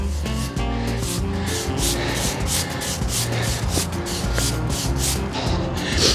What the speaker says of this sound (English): one last good sweep before the clear coat